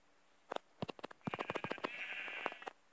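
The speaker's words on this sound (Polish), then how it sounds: "O, jeszcze jedna owca." A Minecraft sheep bleats, its short nasal cries coming in a quick cluster amid clicking game sounds, fairly close and clear with no talking.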